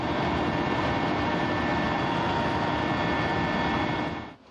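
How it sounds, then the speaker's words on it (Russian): A military helicopter flies low, maneuvering among hills near a landing point. A loud, steady, dense engine and rotor roar fills the whole stretch, then cuts off abruptly at the end. "При приближении к точке высадки вертолет начинает маневрировать среди холмов."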